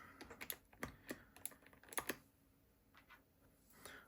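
Keys fitted with Keymacs keycaps are typed on in quick, uneven bursts of close, crisp clacks, a dense flurry followed by a few sparser strokes with brief pauses between.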